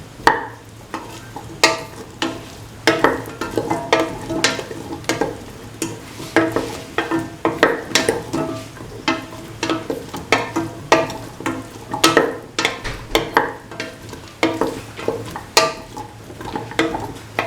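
Cauliflower, potato and coconut milk fried rice is stirred and mixed in a pan, the spoon scraping in a steady run of sharp clinks and scrapes over a soft sizzle, close and fairly loud, with no talking.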